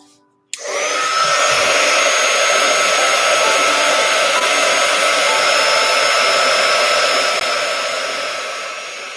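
A hair dryer switches on and runs steadily with a loud, continuous whooshing roar while drying a freshly painted shoe, holding level for several seconds before easing slightly near the end; no speech.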